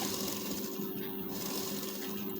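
A sewing machine stitches a lined blouse, giving a continuous, even mechanical hum close by, with no talking.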